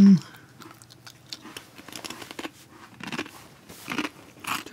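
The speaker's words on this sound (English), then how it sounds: "it's really hard to talk when I'm chewing." Close, crisp crunching and biting of a crunchy snack, irregular bursts of chewing with louder crunches toward the end, no speech over it.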